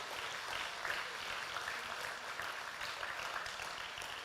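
Church congregation applauding during a Portuguese-language worship service, a dense steady wash of many hands clapping at moderate volume throughout, without a break.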